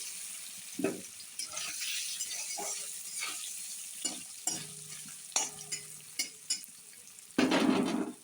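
Paneer pieces frying in a pan for a cauliflower-paneer curry, a steady close sizzle broken by sharp stirring scrapes and clinks of a utensil against the pan, with a louder burst of sizzling near the end.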